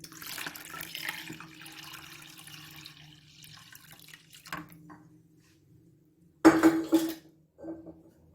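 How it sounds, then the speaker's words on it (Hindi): A jug of water splashes and pours briefly while making kadhi pakora, followed by clinking of a metal pot or utensils in a quiet kitchen, with short bursts and pauses. "1 जग पानी का डाल दूँ।"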